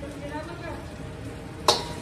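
Chicken frying in oil in a kadai gives a steady soft sizzle, with a sharp brief clink of utensil near the end.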